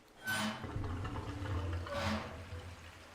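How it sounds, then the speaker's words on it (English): Water gushing out after a handle is turned in the horror game Silent Hill 4, a short quiet splashing rush rising in two surges over a few seconds. "It poured water out."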